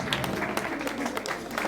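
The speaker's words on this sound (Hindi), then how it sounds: "जोरदार तालियां आनंदित फड़िया के लिए भी" A crowd claps steadily for a Ramleela performer being honoured, a brief continuous burst of applause at an even level throughout.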